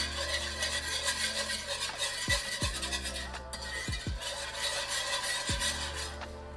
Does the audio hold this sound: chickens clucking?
no